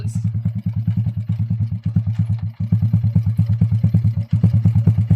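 A motorcycle engine idles close by with a steady, rapid chugging putter that dips briefly a couple of times.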